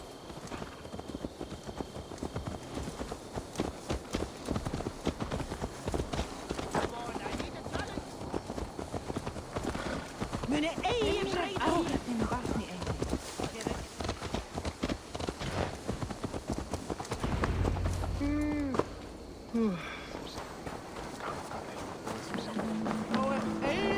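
Horse hooves clip-clop steadily through a long stretch in Assassin's Creed Valhalla on Xbox Series X, a rhythmic trotting gait over game ambience with occasional voices and effects.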